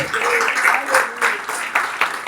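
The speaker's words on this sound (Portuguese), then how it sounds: "Você pode dar um forte aplauso ao nome do Senhor." A church congregation claps during a worship service, a moderate burst of applause with rhythmic pulses, heard alongside a voice speaking over it.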